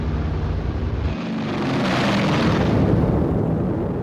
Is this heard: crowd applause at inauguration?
no